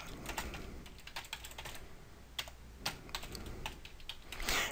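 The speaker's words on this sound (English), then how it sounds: "So we type in sudo and then the command that they give," Commands for a Raspberry Pi are typed on a computer keyboard, quick irregular key clicks, close and fairly quiet, with no talking.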